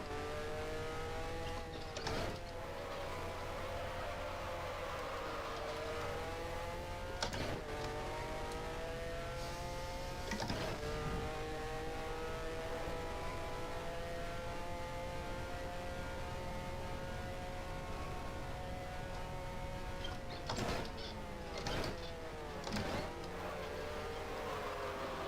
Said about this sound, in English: I'm hearing some cars ahead, some engines ahead.